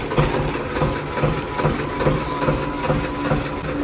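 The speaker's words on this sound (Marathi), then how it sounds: "खूप दिवसानंतर ट्रॅक्टर काढणारे बाहेर." A tractor engine runs close by with a rough, steady, rhythmically pulsing low chug throughout.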